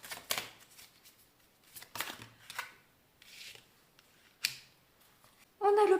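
Tarot cards being shuffled and drawn from a deck, several short papery riffles and slaps spaced apart, close and fairly quiet, ending in a louder burst.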